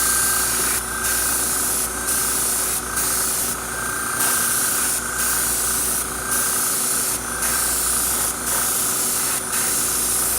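An airbrush sprays paint in steady hissing bursts with brief pauses between passes, close and loud, over the constant drone of a running fan.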